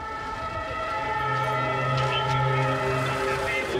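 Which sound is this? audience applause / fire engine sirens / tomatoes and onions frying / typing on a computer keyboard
fire engine sirens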